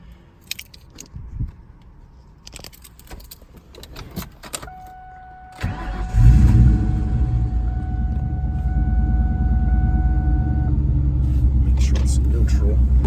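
A 1999 Mustang SVT Cobra engine cranks and catches after some handling noises, then settles into a deep, loud, steady rumbling idle close by.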